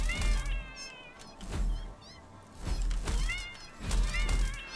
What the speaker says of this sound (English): Ah, this is one of the alpha cats.